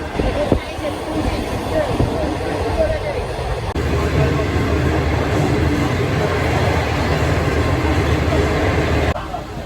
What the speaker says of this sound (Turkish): Şimdi tren kalkıyoruz.